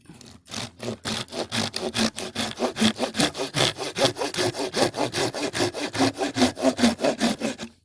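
Steady back-and-forth strokes of a hand saw biting through dry fatwood, a fast regular rasping rhythm, close and fairly loud throughout.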